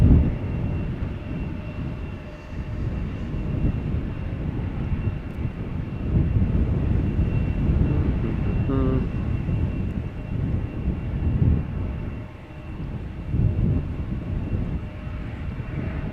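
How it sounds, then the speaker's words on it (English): Embraer 175 jet taxiing toward the runway threshold at Amsterdam Schiphol Airport, a steady low engine rumble holding at moderate level throughout, with a faint whining tone partway through. "this Embraer 175 will be going to the threshold"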